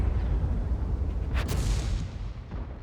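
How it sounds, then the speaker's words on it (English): A Type 61 tank firing a high-explosive shell in World of Tanks, a single loud boom with a short rumbling tail over steady low battle noise. "The Type 61 is firing HE."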